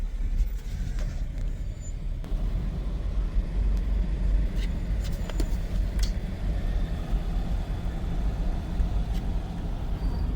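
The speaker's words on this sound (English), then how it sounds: "This traffic sucks." Road traffic in Atlanta heard from inside a moving vehicle, a steady loud low engine and road rumble with occasional faint clicks and squeaks, no talking.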